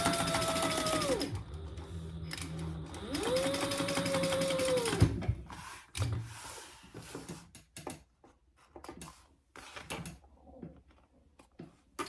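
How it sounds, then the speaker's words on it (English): A sewing machine stitches over a bag seam in two sustained whirring runs, one after a short pause, then falls quiet to scattered clicks and handling noises of the fabric and machine. "I'm just going to sew over that again."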